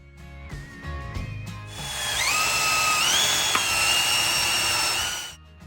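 A power drill spins up with a rising, high-pitched whine and bores into an aluminum profile for a few seconds before winding down, close and loud.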